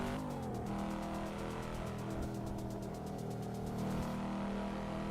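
A car engine in the racing simulator game Assetto Corsa revs and climbs through the gears, giving a continuous buzzing drone that shifts pitch partway through, heard alone with no talking.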